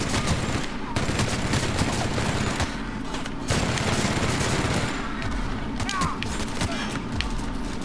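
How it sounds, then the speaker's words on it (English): Sustained machine gun fire in the video game The Outer Worlds, a dense, loud rattling burst of rapid shots with heavy low thumps that continues almost without pause throughout. "I'm gonna lug this ridiculous machine gun about."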